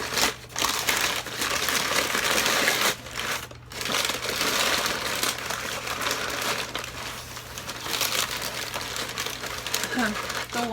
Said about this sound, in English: And packing the paper.